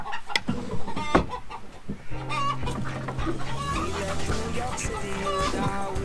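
Chickens cluck and murmur inside a farm chicken coop, a close, busy flock of overlapping calls while a person talks nearby.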